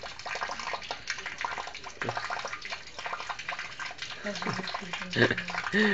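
Tap water running from a washtub spout while a cat drinks from the stream, a steady splashing trickle heard under nearby conversation.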